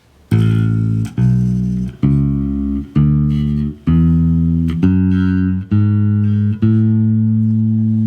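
Eight plucked bass guitar notes ring out one after another, each sustained about a second and decaying, stepping through a major scale at an even pace.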